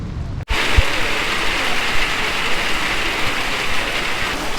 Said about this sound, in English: So it really is pouring down there.